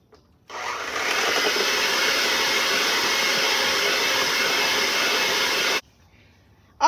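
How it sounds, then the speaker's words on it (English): An electric mixer runs on medium speed, beating butter cake crust ingredients into a thick mixture, a steady close whirring drone that starts abruptly, holds for about five seconds and cuts off. "we're going to mix all these ingredients together on medium speed until they're well combined and thick"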